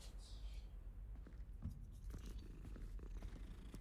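A cat purrs in a video game, a low continuous rumbling purr close and quiet, running steadily under faint background sounds.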